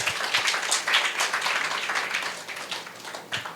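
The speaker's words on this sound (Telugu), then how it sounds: "గట్టిగా చప్పట్లు కొడదామా?" A church congregation claps loudly during a pastor's sermon, with dense, sustained applause rising and falling throughout and no voices over it.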